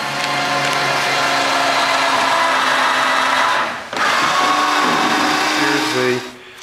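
A power drill whirs loudly up close in two long runs with a brief stop between them, winding down at the end.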